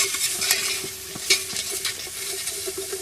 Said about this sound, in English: Get the powderiness out of it by cooking and stirring all the time over a fairly low heat.